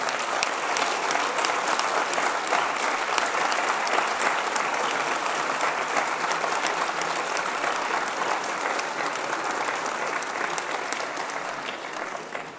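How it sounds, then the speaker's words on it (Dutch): An assembly hall audience gives a dense, even round of applause that goes on for over twelve seconds with no break, fading only slightly toward the end. "ik zou ze toch een applaus willen geven."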